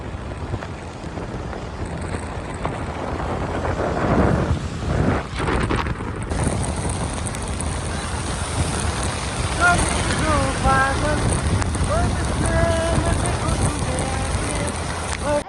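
Steady rushing water from a waterfall at Burla, heard in the rain with wind buffeting the microphone, continuous throughout and partly under someone talking.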